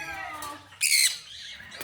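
A parrot on a Jamaican farm lets out one sharp, loud squawk in the middle of quieter background sound, near and brief.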